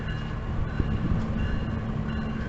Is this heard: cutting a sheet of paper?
no